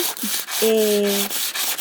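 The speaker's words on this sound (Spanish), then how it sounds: "La vuelven a repasar, la ponen en la lija y la ponen de canto." A mosaic piece rubbed on sandpaper to smooth its edge gives a close, steady scraping rasp of about two seconds, with a brief grinding squeal in the middle, heard alone with no talk.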